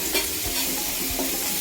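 Green chilies roast in a hot pan for an eggplant bharta, a continuous dense sizzle close up with faint stirring scrapes, no talking.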